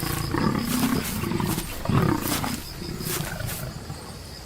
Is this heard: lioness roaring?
yes